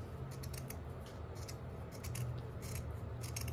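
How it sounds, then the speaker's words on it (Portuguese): Scissors snip steadily through flowers and petals made of jute and twine, a close, crisp run of repeated cuts with a soft rustle of fibre between them. "esse barulhinho da tesoura, gente, é tão gostoso"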